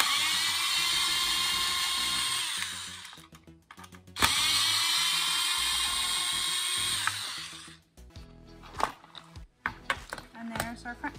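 A power driver spins out 2.5 mm button head screws from a Traxxas Slash 2WD RC car chassis. It gives two loud, close, high whirring runs, each a few seconds long, followed by clicks and handling noises.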